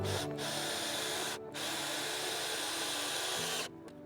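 A power drill bores into wooden raised garden bed boards, a close, steady whirring drone with two brief cuts in the motor and a drop in pitch near the end.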